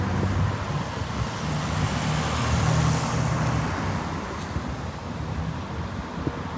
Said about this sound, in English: You'll see there's still lighter traffic than normal.